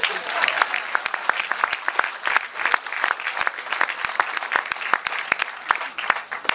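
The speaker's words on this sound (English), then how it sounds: "That deserves a round of applause." An audience at a park superintendent's talk breaks into sustained applause, many hands clapping in a brisk, dense patter with sharp individual claps standing out, steady and fairly close.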